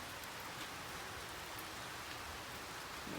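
Steady rain falls in a continuous soft hiss with light pattering, fairly faint and even throughout, no voices.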